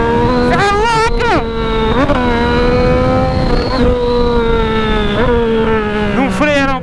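Yamaha MT-09 motorcycle with a straight-pipe exhaust accelerating hard, a loud raspy engine note climbing through the revs, dropping briefly at gear changes and rising again, close and dominant throughout.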